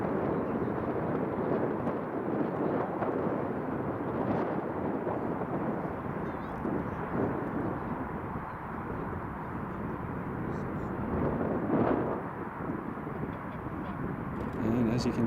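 An Emirates Airbus A380 rolls off runway 05 at Glasgow Airport, a steady, heavy jet-engine roar with broad rumble and hiss, swelling slightly at moments, heard from a distance with no talking.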